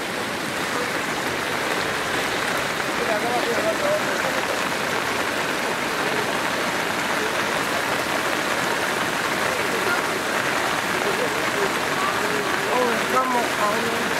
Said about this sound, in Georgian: იმიტომ რომ გადაუღებლად წვიმს